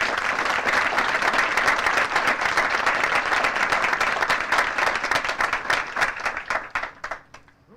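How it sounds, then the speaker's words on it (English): Sustained applause from a large crowd at a military basic camp graduation ceremony, dense and steady for several seconds before thinning into scattered individual claps and fading out. "please join me in giving our awardees a final round of applause"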